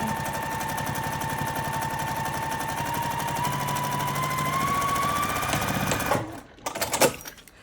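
A sewing machine stitches fabric in a steady, rapid mechanical chatter, loud and close, running continuously for several seconds before stopping and giving way to a few handling clunks.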